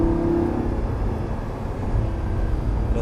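A Lamborghini Gallardo LP 560 on a track, its engine giving a loud, steady low drone from inside the car, a continuous close roar with no pauses.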